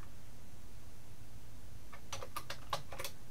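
Quick keystrokes on a computer keyboard: a short burst of about half a dozen light clicks near the end, after quiet room tone.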